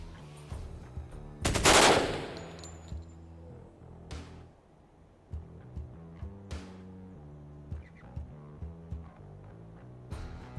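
Machine gun fire in the tactical game Door Kickers 2: one loud, dense burst early on, then scattered sharper single shots over a low, droning game soundtrack.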